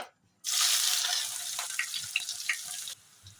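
Chopped onion and green chilli dropped into hot white oil in a wok, giving a sudden loud hiss that holds steady for a couple of seconds with small crackles before cutting off.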